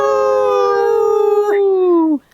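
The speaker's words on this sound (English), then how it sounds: "You may have heard that wolves howl at the moon." A single long howl with strong harmonics, drawn out and slowly falling in pitch before breaking off abruptly; loud and close, alone.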